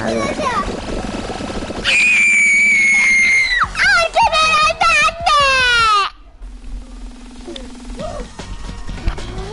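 A child screams loudly and shrilly in repeated bursts during a Fall Guys game, piercing close-up over game sounds, with an adult voice speaking before and after.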